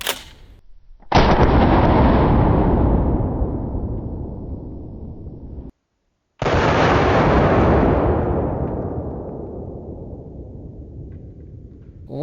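Two very loud close shotgun blasts firing a 495-grain solid steel slug at a bulletproof vest, each a sharp boom followed by a long rolling echo that slowly fades, separated by a brief silence.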